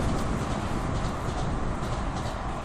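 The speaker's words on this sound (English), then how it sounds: "that noise you can hear, that is the Piccadilly line" London Underground Piccadilly line train running behind a fence near Heathrow, heard as a steady broadband rumble and roar that holds constant throughout, moderately loud and with no voices.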